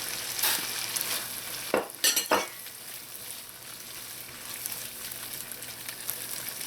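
Carrot and chayote (christophene) fry and sizzle steadily in a pan, a continuous close crackle broken by a few sharp scrapes and clatters of stirring near the middle.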